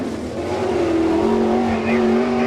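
Sprint car number 77, the Manheim Auto Auction Cindy Row Auto Glass car driven by Freddie Raymer, roars at speed on the Lincoln Speedway dirt oval during All Star Circuit of Champions time trials, a loud sustained engine note that rises slightly in pitch.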